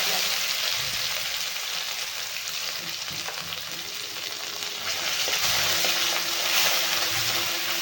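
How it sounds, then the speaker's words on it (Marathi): Spices tempering in hot oil for Maharashtrian misal, with cumin and curry leaves crackling in the pan; a steady, close, dense sizzle runs throughout with faint talk beneath. "आपल्याला छान एकदम गरम गरम तेलामध्ये छान असा आपल्याला ह्याला तडका जायचे आहे"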